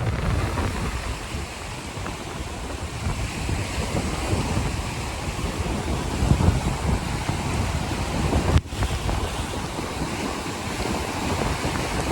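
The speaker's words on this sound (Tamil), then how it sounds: "எனக்கு பின்னுக்கு கடல் எப்படி கொந்தளிப்பாக இருக்கின்றதை உங்களால் பார்க்க முடியும்" Rough sea off the Sri Lankan coast during a red-alert storm, heavy surf roaring continuously under strong gusting wind that buffets the microphone, with one sharp knock partway through.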